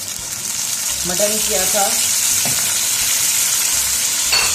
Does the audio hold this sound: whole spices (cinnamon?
yes